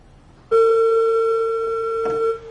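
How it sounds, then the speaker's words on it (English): A pair of closely spaced synthesizer notes, very near in pitch, sound as a clean sustained electronic tone lasting about two seconds with a steady hum, a slight shift near the end, then a quick fade. "My synthesizer can tell me that these 2 notes, this one and this one,"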